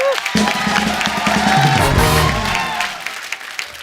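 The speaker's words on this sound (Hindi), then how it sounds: "मेरी इस स्मार्ट इंटेलेक्चुअल बात के लिए जोरदार तालियां बनती हैं।" Studio audience of a Hindi comedy talk show breaking into loud, dense applause with some cheering, sustained for a few seconds before tapering off.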